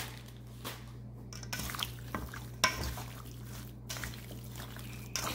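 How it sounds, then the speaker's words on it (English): A tablespoon of Italian seasoning is mixed into skin-on chicken pieces in a baking dish, giving soft, wet squishing and stirring sounds with a few sharper knocks, close and fairly quiet, with no talking. "you're gonna mix all this up"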